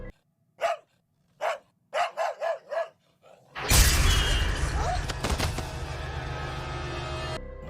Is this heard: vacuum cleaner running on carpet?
no